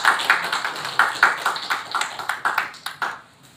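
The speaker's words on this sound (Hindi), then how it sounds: "ताली बने बजाओ ना" A handful of people clap at a press conference as a singer is invited to the stage. The claps are light and scattered and somewhat distant, thin out toward the end and fade into quiet.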